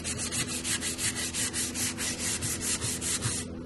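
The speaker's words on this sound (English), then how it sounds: "I'm going to just use a little bit of 220 sandpaper to do it" Wooden desk surface hand-sanded with 220 grit sandpaper: a loud, close, rhythmic scratchy rubbing in quick back-and-forth strokes, about four per second, with no talking.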